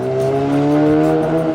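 A rotary-engined car speeds past at a Southern California car-meet shoot, engine tone sweeping with strong harmonics while tires squeal, loud and close throughout with no talking.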